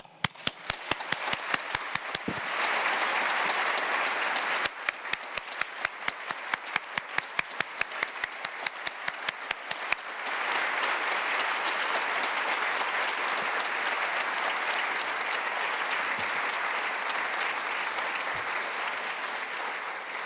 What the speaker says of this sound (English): I ask us all to applaud them